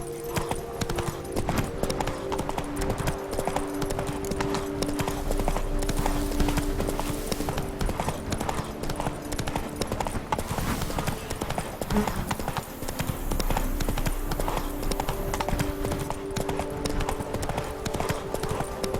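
Roach the horse gallops along in The Witcher 3: Blood and Wine, a fast, steady clip-clop of hooves running continuously and close, with a low rumble beneath and faint speech in the background.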